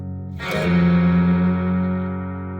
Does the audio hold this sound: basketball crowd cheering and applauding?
no